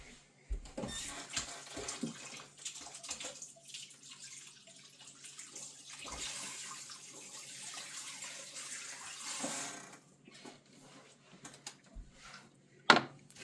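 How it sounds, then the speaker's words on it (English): Hands are washed under a running kitchen tap, a faint, uneven splashing and trickling of water with a few louder knocks and clunks, and the water cuts off near the end. "let me wash my hands"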